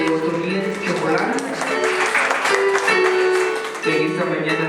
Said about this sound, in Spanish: Fuertes los aplausos para Maricela Chulú